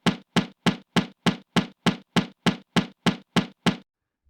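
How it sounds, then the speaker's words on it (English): Loud knocking on a door comes as about a dozen heavy, evenly spaced thuds in a steady insistent rhythm, close and alone, then stops. "the knocking grew even louder"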